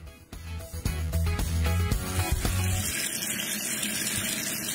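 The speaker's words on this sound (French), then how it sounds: "Le bruit que vous entendez en ce moment, c'est celui de l'eau qui coule d'un robinet." Water runs steadily from a kitchen tap, a broad continuous gush that settles into an even hiss after a few thumping knocks at the start.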